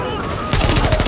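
Rapid automatic gunfire in the video game The Division, a dense burst of loud, close shots that erupts suddenly after a brief lull and continues in a fast rattling stream.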